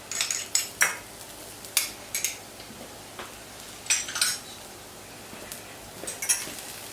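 Utensils clink and tap against a pan as ginger and garlic go in for a crispy lime chicken with plum sauce, several sharp metallic knocks in uneven bursts at close range, with no talking.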